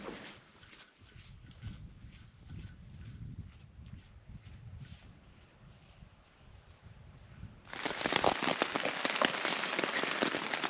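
Heavy monsoon rain on the Colorado Trail starts suddenly after a quieter stretch of light patter, becoming a dense, loud hiss of drops pounding a nearby surface.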